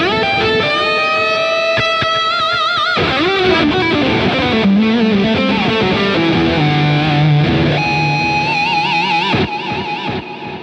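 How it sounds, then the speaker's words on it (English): An electric guitar played through a Positive Grid high gain amp emulation with compressor, drive, delay and reverb rings out loud and saturated, with sustained bent notes, quick runs and a final cut-off with trailing echoes. "which is just an awesome high gain amp emulation that they have going on here with Positive Grid"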